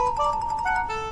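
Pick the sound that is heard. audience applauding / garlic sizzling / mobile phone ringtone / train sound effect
mobile phone ringtone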